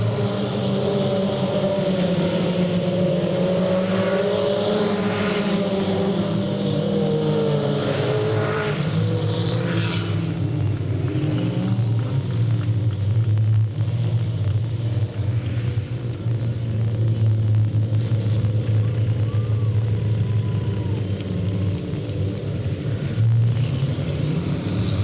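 Race cars and trucks roar around the oval at Delta Speedway, a loud, continuous engine drone with rising and falling pitch as the pack passes, heard from the stands.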